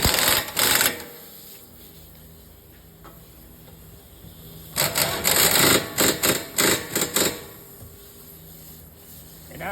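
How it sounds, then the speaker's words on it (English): Ratcheting while tightening a bolt on a Ford Escape rear shock, a short burst of rapid clicks, then after a pause several longer clicking runs in quick succession, close and alone. "I'm just going to go ahead and tighten this bolt up."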